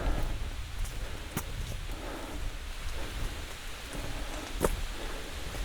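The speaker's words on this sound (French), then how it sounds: "Je me rapproche d'une rivière qui a un débit assez fort." Steady rushing water from a fast-flowing river, a continuous broadband roar with a couple of sharp clicks, no voices.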